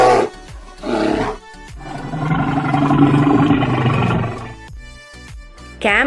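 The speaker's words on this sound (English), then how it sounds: "Bear growl." A bear growls in a long, loud, rumbling roar lasting a couple of seconds, with shorter harsh bursts before and after it.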